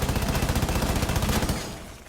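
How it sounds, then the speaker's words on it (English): Rapid automatic gunfire in Rainbow Six Siege rips through a reinforced soft wall to destroy a gadget, a loud, dense, steady burst of shots that cuts off abruptly and leaves a short fading tail. "you can shoot around it and destroy the gadget immediately."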